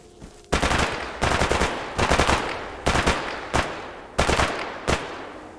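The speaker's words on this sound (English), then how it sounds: "they're firing at us!" Bursts of automatic gunfire in the video game S.T.A.L.K.E.R. Anomaly, six loud, close rapid-fire volleys separated by short pauses, with no talking.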